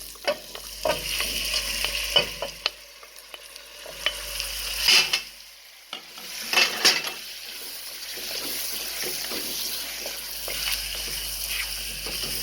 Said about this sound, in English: I'm going to go ahead now and add my meat to it